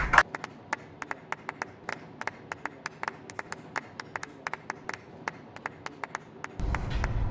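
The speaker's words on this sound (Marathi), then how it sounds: "अरे टाळ्या वाजवा तिच्यासाठी" Handclaps for a colleague being congratulated in an office scene from a Marathi short film, heard as sparse, evenly spaced single claps against a quiet room, ending in a burst of noise.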